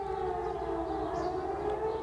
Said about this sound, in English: Sirens, warning of the strike that was coming